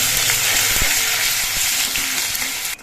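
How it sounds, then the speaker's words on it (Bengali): Ginger paste fries in hot oil in a continuous loud, dense sizzle, with occasional soft taps of a spatula against the pan before it cuts off abruptly at the end. "আদাটা একটু মেরে করে ভেজে নিতে হবে"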